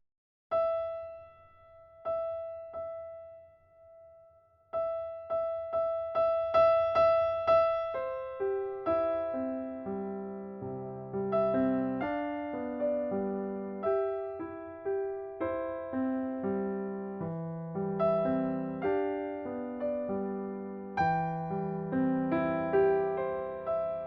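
Solo piano playing the opening eight measures of a piece from Pride & Prejudice, starting with a few repeated single notes before flowing into fuller, overlapping chords.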